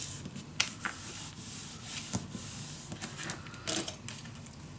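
Paper burnished down by hand inside a mini album built in a storage box: short, close scraping and rubbing strokes in an uneven rhythm, quiet and unaccompanied by talk.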